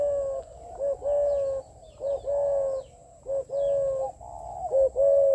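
A caged young bird from Bac Giang, Vietnam, cooing and calling up close, repeated short tonal phrases in an uneven rhythm with brief pauses between them, loud and alone without talk.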